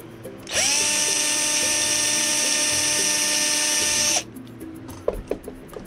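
A power drill whirs steadily for several seconds at high speed through a wooden plank, then cuts off abruptly, followed by a few faint knocks and handling sounds.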